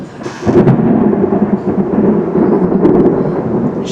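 Thunder from very close lightning bolts in an afternoon thunderstorm rolls in loud after a sharp onset and rumbles on steadily over falling rain.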